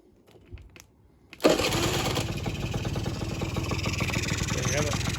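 After a few quiet handling clicks, a Sym Jolie DD50 50cc scooter engine fires up abruptly and settles into a steady, buzzy idle, loud and close, running continuously to the end.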